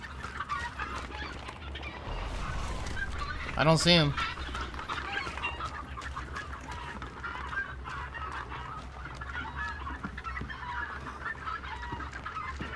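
Chickens in the Hunt: Showdown game cluck and squawk continuously, with one louder, sharper flapping squawk burst near the middle, over low rumble and brief player talk.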